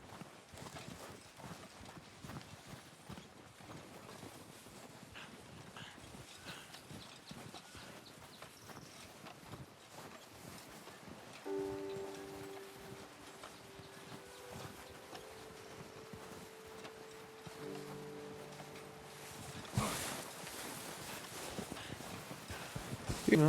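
Horse hooves clip-clop in the video game Red Dead Redemption 2, a soft, steady walking rhythm under quiet ambience, with faint tonal game sounds and brief louder bursts near the end.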